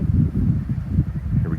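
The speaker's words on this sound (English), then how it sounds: "If that wind is bothering you, I apologize." Wind buffets the microphone outdoors beside a river realignment site, a continuous low rumbling roar with gusty swells and no pauses.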